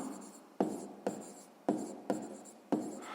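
A pen writes out a math solution on paper, its strokes scratching in a steady rhythm with sharp onsets about every half second, close and fairly quiet.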